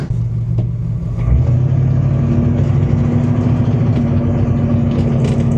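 A 1987 GMC Sierra 1500 pickup's engine drones loudly and steadily from inside the cab while driving, a low rumbling hum that deepens slightly after a second.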